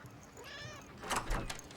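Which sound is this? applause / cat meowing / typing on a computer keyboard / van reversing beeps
cat meowing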